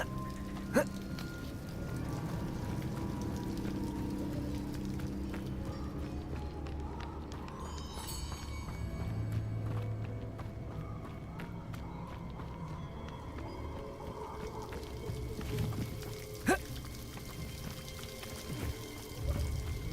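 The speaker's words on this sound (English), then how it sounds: "The waterfall." A waterfall in Hogwarts Legacy pours in a steady, broad rush of falling water, constant and moderately loud throughout, with a few brief clicks on top.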